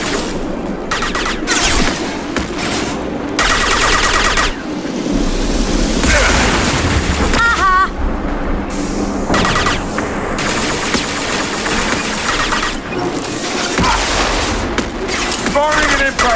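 Sustained gunfire and impacts during a Mass Effect 2 combat mission, dense bursts of shots with booms over a busy battle mix, with voices speaking over parts of it.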